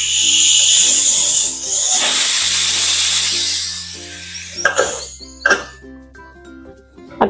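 A pressure cooker of chickpeas on a medium gas flame lets out a loud, sustained steam whistle and hiss that fades after about four seconds, leaving soft sharp bursts over quiet steady tones.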